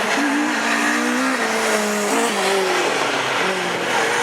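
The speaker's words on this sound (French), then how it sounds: "la Citroën C4 qui prend un excellent départ" A Citroën C4 rallycross car at a race start, with loud engine roar and rising, shifting revs, plus tire squeal as it launches off the line.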